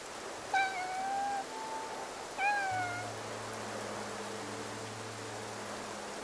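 In the game Infinity Nikki, a cat lets out two clear meows a couple of seconds apart over a soft, steady background hiss like rain and a low hum.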